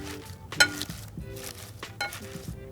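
Spring mix salad leaves with colorful vegetables and dressing tossed in a bowl, giving a few soft rustling swishes and light clinks against the bowl at close range, with no talking.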